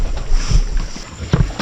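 A fishing boat moves across the sea with a loud, steady rush of engine and wind noise, short and close to the microphone.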